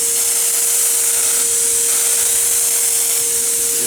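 A Wagner Control Spray Max HVLP sprayer spraying latex paint gives a steady, loud hissing rush with a constant tonal whine, close and uninterrupted, with no talking.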